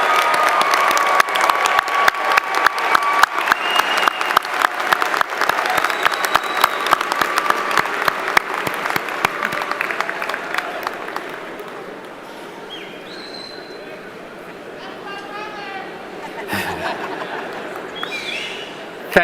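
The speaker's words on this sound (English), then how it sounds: "let's give them a large round of applause." Large commencement audience at a UCF summer graduation ceremony applauding graduates' families, a loud sustained wash of clapping that swells early, dips midway, then rises again with scattered cheers.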